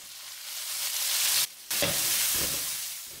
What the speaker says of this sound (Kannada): ಈಗ ಈರುಳ್ಳಿ ಅನ್ನೋದು ಸ್ವಲ್ಪ ಮೆತ್ತಗಾಗೋವರೆಗೂ ಚೆನ್ನಾಗಿ ರೀತಿ ಫ್ರೈ ಮಾಡ್ಕೊಳ್ಬೇಕು.